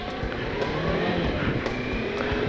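A motorcycle with its engine running while riding on a mountain road, a steady droning engine note with wind rush, fairly loud and continuous, with no talking.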